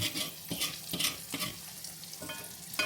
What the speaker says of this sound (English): Our egg's starting to get a little fried up, so we're just going to mix it, break it up, bring it all around